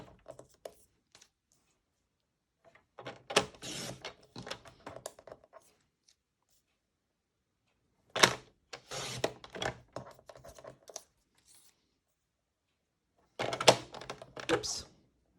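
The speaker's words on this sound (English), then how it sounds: "I'm using our cutter, and I really like this cutter because it's so easy to read. So now we're going to cut 5 1/2 inch strips." Paper cutter slicing card stock into strips, three separate bursts of sliding, crunchy cuts with quiet pauses between, close by.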